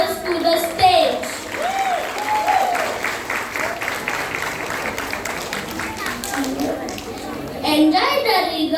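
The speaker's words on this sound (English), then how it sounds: "Let's clap our hands and welcome our tiny dancers to the stage." An audience claps for a children's graduation dance at a kindergarten event. The applause is continuous and lively, with children's voices and chatter mixed in and music rising near the end.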